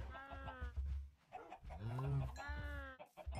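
Cattle in a farming video game lowing in a few drawn-out, tonal moos, close and fairly loud, with a short gap between calls.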